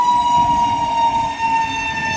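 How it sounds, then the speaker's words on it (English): A train passes by a village in Ghazipur, Uttar Pradesh, India, its horn blaring a sustained loud tone over the rumble of the moving cars, steady and close throughout. "Usually, see the train is going."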